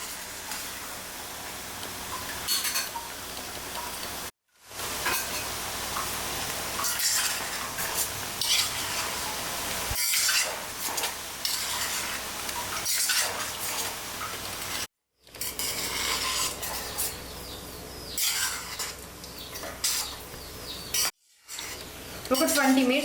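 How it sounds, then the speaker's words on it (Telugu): Chicken pieces for a spicy chicken pickle frying in a pan and being stirred, with steady sizzling, spoon scrapes and clinks throughout and a few brief silent gaps. "చక్కగా ఇలా కలుపుతూ మిక్స్ చేసుకోండి"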